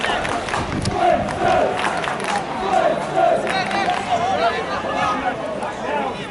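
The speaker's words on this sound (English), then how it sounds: "Crowd trying to do their part." Stadium crowd at a 2016 Swinton versus Halifax rugby league match roaring and chanting in a loud, sustained swell, with a commentator talking over it.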